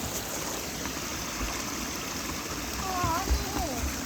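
River water flowing steadily outdoors at a nature center, a constant soft rushing murmur with a small splash near the end.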